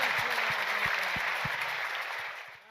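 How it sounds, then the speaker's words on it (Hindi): Audience applause at a Hindi comic poetry recital (kavi sammelan), a dense steady wash of clapping from a sizable crowd that holds for a few seconds and then begins to fade. "तालियां बजाएं आप लोग"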